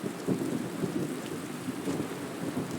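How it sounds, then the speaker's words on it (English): Steady rain pours with low rumbling thunder rolling beneath it in the video game Skyrim, a dense continuous wash of falling water with no voices. "Wait out this rain."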